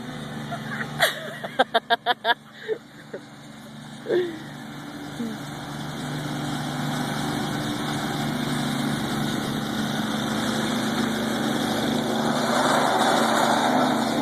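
A zero-turn lawn mower engine runs steadily in the background, a droning hum that grows slightly louder over time, with a series of sharp clicks or knocks near the start.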